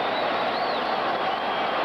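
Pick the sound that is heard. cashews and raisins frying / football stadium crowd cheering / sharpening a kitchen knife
football stadium crowd cheering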